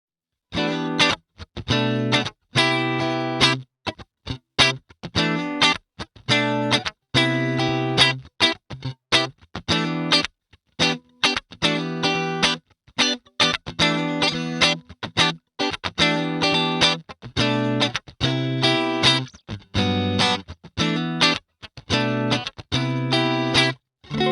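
An electric guitar through a Neural DSP Archetype: Cory Wong amp plugin plays a bright, clean amplified tone, strummed chords and picked notes in choppy phrases separated by short silences.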